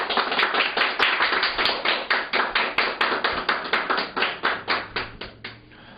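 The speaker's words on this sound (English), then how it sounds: "let's give a round of applause" Rhythmic hand claps at an interview show in Los Angeles, a steady series of sharp, close slaps with no talking, fading out toward the end.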